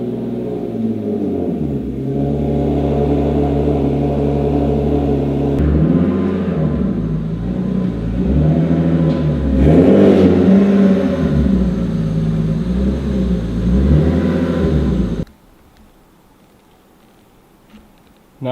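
A boosted Infiniti G37 Coupe engine idles and rumbles steadily as the car is pulled in, with slight rises in revs, then cuts off near the end, leaving quiet.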